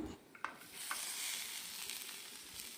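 Grated coconut sautéed in a pan gives a soft, faint sizzle with a few light scrapes of stirring near the start, heard alone.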